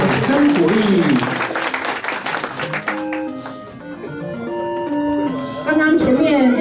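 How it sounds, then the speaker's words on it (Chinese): An audience at an amateur magic show claps in a dense burst that fades, then swells again at the end, with a voice speaking over the applause and background music tones in between. "掌声鼓励"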